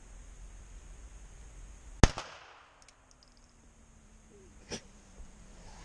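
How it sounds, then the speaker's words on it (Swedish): A single sharp gunshot from a sport shooting gun at a guest shooting session, one loud crack with a brief tail, followed later by a fainter click, with no talk. "Nu kommer jag demonstrera ett skott."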